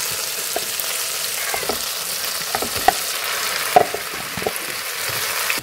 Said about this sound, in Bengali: চিকেনটাকে ধীরে ধীরে কষে নেব